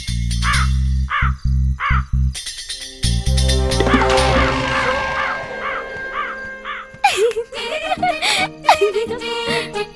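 A crow caws several times in harsh bursts, followed by a cartoonish jumble of squeaky, giggling vocal sounds.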